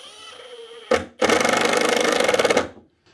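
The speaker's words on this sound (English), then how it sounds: "Just going to drive that in." A power driver sinks a 1.25-inch screw into wood with a short trigger blip, then a loud, close, buzzing whir lasting about a second and a half before stopping.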